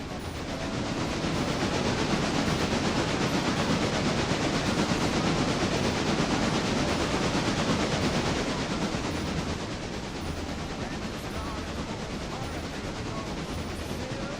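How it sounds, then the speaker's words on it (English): Chesapeake and Ohio T-1 steam locomotive in the RailRoader video game, heard riding along as a loud, dense, continuous rush of wheel and rail noise with steady roar and no breaks. "let's ride this train"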